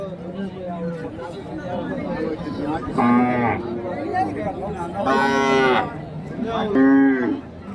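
Cattle moo loudly several times at a Friday cow market in Krishnagiri district, Tamil Nadu, long deep bellows rising over a steady murmur of voices and crowd chatter nearby.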